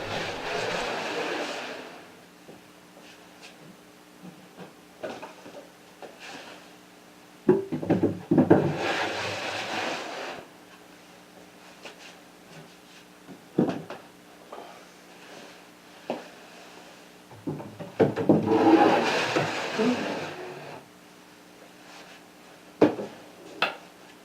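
Large wooden drawers slide into a pocket hole machine shop cart in three separate pushes, each a loud rumbling wooden scrape ending in a knock, with quiet pauses between.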